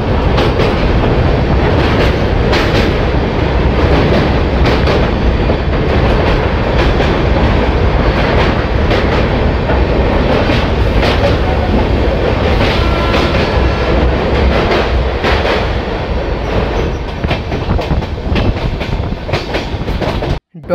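Padatik Express train running from Alipurduar to Sealdah, a loud, steady rumble of carriages on rails with rhythmic clickety-clack wheel beats close by, continuing without a break.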